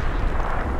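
A heavy explosion strikes a tank during a Hell Let Loose battle on Omaha Beach, a dense, continuous low rumble and blast filling the short moment, loud and close.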